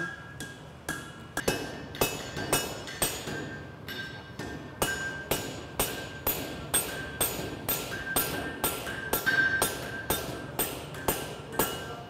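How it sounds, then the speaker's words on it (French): Rapid, steady hammer blows ring out on metal as two hammers forge a horseshoe at a farrier school, alternating in a fast ringing clang rhythm, loud and close with no talk. "On va vous faire la démonstration d'une forge à 2 marteaux."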